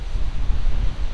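Wind gusting across an open field at around 11 miles an hour, a brief low buffeting rumble against the microphone with no voices.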